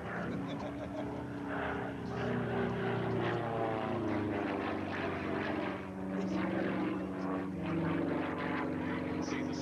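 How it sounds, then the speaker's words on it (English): A 400-horsepower aerobatic propeller aeroplane tumbling at an airshow drones with a sustained, shifting engine tone that rises and falls as it maneuvers, heard at a distance under a commentator's voice. "look at this aeroplane tumbling over the top of that"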